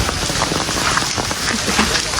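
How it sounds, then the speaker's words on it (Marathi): Heavy rain pouring down, a loud dense steady patter on surfaces close by with no break. "बघा ना किती पाऊस चालू आहे"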